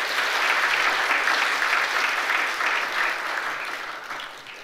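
A church congregation applauds during a Sunday service appointment of deacons as district leaders, a full, sustained round of clapping from many hands that slowly tapers toward the end.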